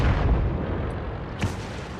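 Tank gunfire in the World of Tanks video game, a loud booming shot near the start followed by a sharper crack about halfway through over a rumbling battle background.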